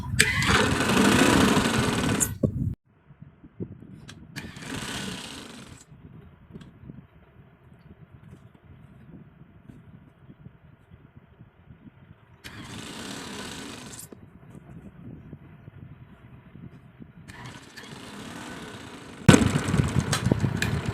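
A sewing machine stitches elastic onto the waistband of trousers. Its motor runs in three loud, steady bursts, with quiet pauses between them while the fabric is adjusted.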